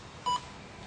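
A single short electronic beep sounds during a word-association test, a clean mid-pitched tone set against low background hiss.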